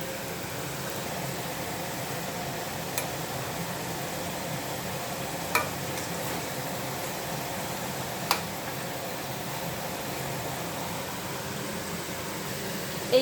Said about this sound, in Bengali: তেলে খুব সুন্দর হালকাভাবে ভেজে নেব